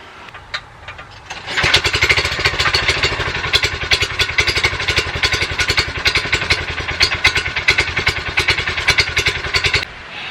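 A small go-kart engine sputters once, then catches and runs with a loud, rapid, clattering putter that stays close and steady until it cuts back near the end.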